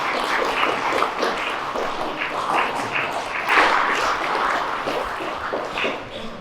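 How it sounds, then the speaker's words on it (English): Steady, moderately loud applause from a conference audience as panelists come on stage for a Web2-to-Web3 panel discussion, a continuous wash of clapping that swells briefly midway. "Give them a round of applause."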